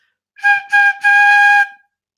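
Three breathy, high-pitched notes blown on a fife, two short ones followed by a longer held note, close and clear against silence.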